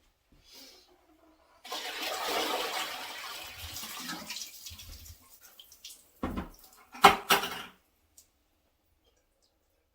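Hot water tipped from a bucket into a clogged toilet bowl, a rushing, splashing pour lasting a few seconds, then trickles, drips and a couple of sharp knocks or clicks as it settles, close by with no talk.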